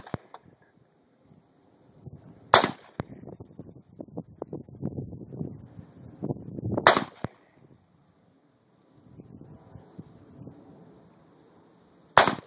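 Three sharp, loud gunshots from a KelTec .22 high velocity rifle, spaced several seconds apart outdoors, with quieter rustling and handling noise between them.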